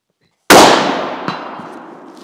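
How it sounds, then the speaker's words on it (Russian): A single sharp .308 caliber rifle shot cracks loudly, followed by a metallic ring from a struck steel gong target, decaying over a couple of seconds. "давайте делаем еще один выстрел в гонг на эту дистанцию"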